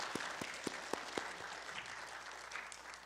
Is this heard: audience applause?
yes